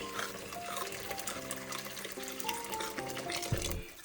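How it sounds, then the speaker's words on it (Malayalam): Water pours steadily into a pan of fish curry, a continuous liquid rush lasting several seconds under background music. "ഇനി ആവശ്യമുള്ള വെള്ളം ഇതിലേക്ക് ഒഴിച്ചു കൊടുക്കുക."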